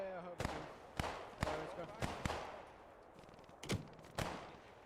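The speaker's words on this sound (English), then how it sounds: "So we've got British mortars trying to return fire." British mortar and gunfire in the WWII shooter Post Scriptum: sharp, loud blasts at irregular intervals, several in quick succession with shorter reports between, over a low battlefield rumble.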